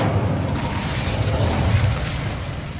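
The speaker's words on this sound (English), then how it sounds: "Incendio" An Incendio fire spell is cast in the Hogwarts Legacy video game, a dense roaring fiery burst sustained loudly for a few seconds with low rumble and crackling texture, no voice over it.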